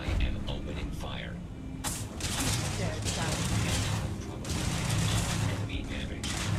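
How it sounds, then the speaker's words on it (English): Sustained gunfire from a firefight in the video game Starfield, dense bursts of shots layered with game effects and a voice talking over the action. "I am opening fire."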